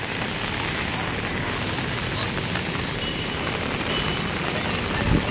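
Heavy rain pours steadily over a flooded street in Mumbai, a dense continuous roar and patter at constant loudness, with no voices over it.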